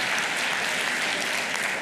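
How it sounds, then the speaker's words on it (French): Senators in a parliamentary chamber applaud in a dense, continuous wash of clapping, loud and sustained throughout. "je vois que les sénateurs et sénatrices applaudissent."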